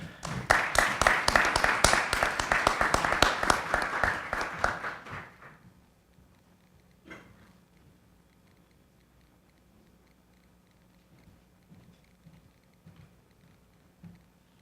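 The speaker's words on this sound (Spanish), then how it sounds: "Quisiera también recibirla con un gran aplauso" An audience at a family mediation forum bursts into loud, brisk applause that holds steady for about five seconds, then fades out into a quiet room with only faint scattered sounds.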